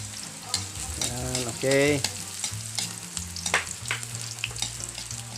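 Garlic for an escabeche sauce sizzles and crackles steadily in hot oil in a pan, a continuous close frying hiss with stirring clatter, while a person speaks briefly over it.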